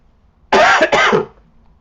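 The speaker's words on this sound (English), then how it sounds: "Excuse me, I'm going to cough." A single loud, close cough, a short harsh burst with a brief second push, then quiet.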